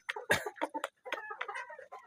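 Four-and-a-half-month-old Bahama chickens cluck close by in a quick run of short, separate clucks and squawks, loud and clear with no talking.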